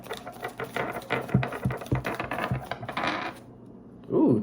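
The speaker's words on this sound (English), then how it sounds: "I will go ahead and shuffle it one more time" Rapid papery riffling and soft flicks as a deck of tarot cards is shuffled close by, ending with a brief rustle.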